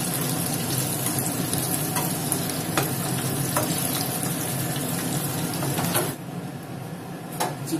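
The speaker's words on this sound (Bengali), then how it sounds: "চিকেনটা আমি একবার করে ফ্রাই করে রেখেছি এবার দ্বিতীয়বার করে আবার ভাজতে দেব।" Chicken pieces for crispy dry chilli chicken frying a second time in hot oil, a dense steady sizzle running throughout with a few utensil taps, easing slightly near the end.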